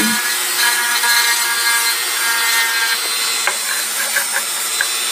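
An engraved wooden stool is sanded in a continuous loud, rough, steady abrasive hiss. A few faint taps come near the end, and no voice is heard.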